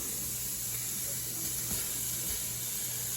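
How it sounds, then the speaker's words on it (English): Black Label bacon sizzles and crackles steadily in a hot pan, a constant bright hiss with occasional small pops. "Bacon. Start frying it."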